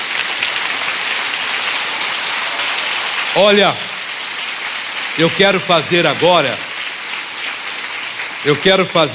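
A church congregation applauds during a Brazilian evangelical service led by Missionário R. R. Soares, a broad, rain-like wash of clapping that runs throughout while a voice speaks over it in bursts.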